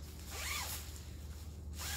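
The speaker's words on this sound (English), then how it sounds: "The zipper is" Zipper on a cheap fabric home storage bag being pulled, two quick rasping zips about a second apart, close and moderately loud with no talk.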